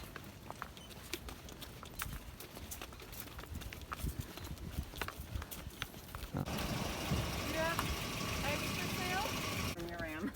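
Donkey hooves clip-clop in an irregular rhythm close by, with people chatting over them and a rumbling engine joining toward the end.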